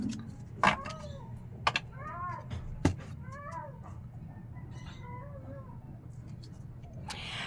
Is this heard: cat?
yes